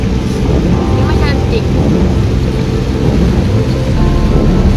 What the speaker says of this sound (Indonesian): Sekarang hujan lebat guys.